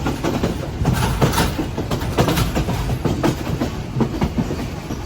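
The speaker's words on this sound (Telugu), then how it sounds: "ఇప్పుడే మన train Colombo fort railway station దాటి ముందుకు వెళ్తుంది" A passenger train on the Colombo to Kandy line in Sri Lanka, just past Colombo Fort station, rumbles loudly and closely with a continuous rhythmic clickety-clack of wheels over rail joints.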